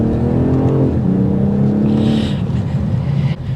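A 2024 BMW 840i Coupe in sport mode accelerates hard, its engine note climbing loudly and steadily with a brief shift near the start, heard from inside the cabin with no talking.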